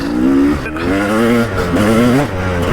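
A loud KTM 300 EXC dirt bike engine with its standard silencer revving steadily, its exhaust note rising and falling in pitch with throttle changes throughout.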